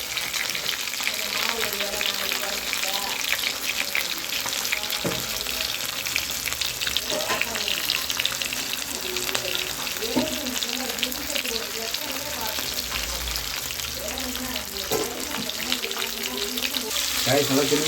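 Sankara fish frying in hot oil in a large kadai, a dense steady sizzle with occasional clicks and scrapes throughout, close and continuous.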